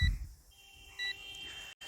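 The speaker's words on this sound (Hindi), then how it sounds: "बीप बीप करके आवाज़ आ रही है। आई थिंक इसका बैटरी लो हो गया है" Low-battery warning beeps from a high-speed remote control boat, two short faint electronic tones separated by about a second over quiet background hiss.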